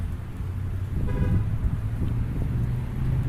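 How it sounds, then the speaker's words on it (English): Wind outdoors, a steady low rumbling buffet against the microphone throughout, with a faint passing car and a brief tonal toot in the middle. "It's a little windy out here"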